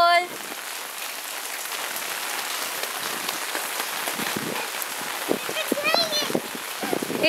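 Rain falls in a steady patter on surfaces throughout, with a voice and adult chatter heard faintly over it.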